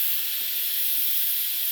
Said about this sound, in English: I'm gonna hit the pressure release button. All the steam's gonna come out.